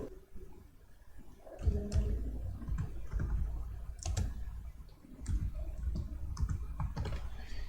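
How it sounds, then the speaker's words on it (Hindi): Clicking of a computer keyboard as someone types, irregular clusters of close keystrokes and a few heavier taps over a quiet room background. "यहाँ पे कुछ और मैं टाइप कर लेता हूँ। मैं यहाँ पे टाइप कर देता हूँ बिजनेस कोड।"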